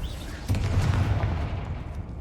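Confringo fire spell from Hogwarts Legacy bursting with a low booming explosion, a short heavy blast rising after a faint start and rumbling off under distant crackles.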